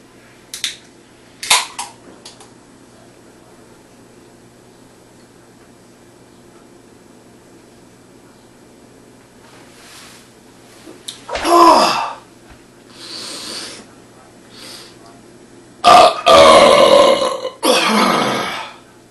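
A can of beer shotgunned: a sharp crack and hiss of the can opening, then loud gulping bursts, a gasp and a hard burp, close by, separated by near-silent pauses and with no talking.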